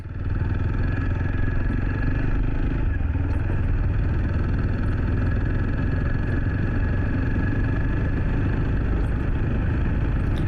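A motorcycle cruising at roughly 37 to 40 speed, its steady engine drone and wind rumble continuous and loud throughout with no letup.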